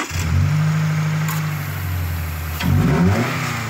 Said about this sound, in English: I'm going to give you a couple quick revs so you can hear the noise that the intake made